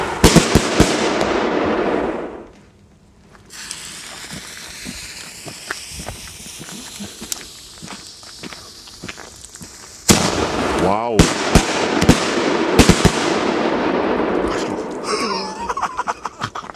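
Panda Feuertopf Gold firework cake fired along with Vogelschreck bird-scarer bangers and shell-set balls: dense bursts of crackling and sharp bangs, a short lull, then renewed rapid crackles, with people talking and laughing throughout.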